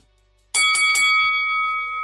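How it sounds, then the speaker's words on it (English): A bell rings to open a main event in a boxing-style segment, a sudden loud series of three quick metallic strikes that leave a long bright ringing decay, heard alone after a brief silence. "Ring the bell."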